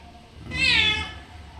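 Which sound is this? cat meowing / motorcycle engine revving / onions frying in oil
cat meowing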